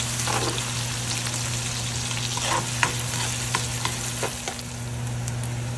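Onion and garlic sizzle in a pan as they are stirred, with crackles and soft scraping over the constant low hum of a kitchen exhaust fan.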